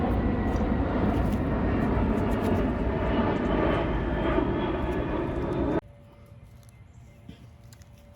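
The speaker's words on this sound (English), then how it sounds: "Sorry about the plane noise." A loud airplane engine roars steadily overhead, then cuts off abruptly, leaving a quiet outdoor hush with a faint bird call.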